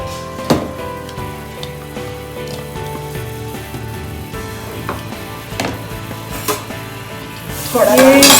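A chopped onion browns in hot oil with cardamom and cloves, a steady low sizzle under scattered utensil clinks and taps, swelling into a loud, bright crackle near the end.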